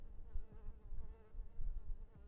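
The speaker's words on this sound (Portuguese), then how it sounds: "As moscas" Flies buzz around in the GTA 5 video game, a soft, wavering drone of several insects with overlapping wingbeat tones, faint and close, with no talking over it.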